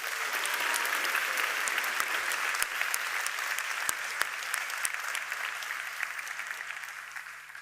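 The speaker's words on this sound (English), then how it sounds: "So please give Mr. Bansal another big round of applause" Audience applause at a youth forum gathering in a gym, a sustained round of clapping for a speaker that holds steady for several seconds before tapering slightly, dense and close, with no talk over it.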